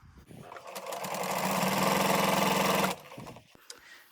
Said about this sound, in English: now I'm going to stitch about 1/8 of an inch from the edge of the fabric